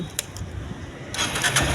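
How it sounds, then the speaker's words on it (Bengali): A Honda X-Blade motorcycle with double disc ABS, a late-2023 bike, is self-started: a brief starter whir, then the engine catches and settles into a steady, close idle. "axle self start"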